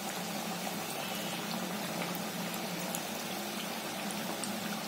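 Potato bites deep-frying in hot oil until crisp, a dense, steady bubbling and crackling that holds at an even level throughout with no voices.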